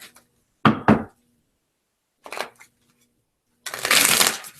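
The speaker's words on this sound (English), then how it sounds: "All right, let me shuffle." Tarot cards are shuffled in three quick riffling bursts separated by quiet pauses, the last one longest and loudest.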